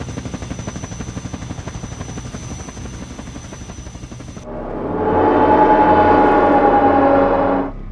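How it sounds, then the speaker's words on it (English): Attack helicopter in the Garry's Mod video game, its rotor thumping steadily and then rising into a loud, sustained engine roar that swells and holds before cutting off, with no voices. "Activate Secret Attack Helicopter Defense Protocol."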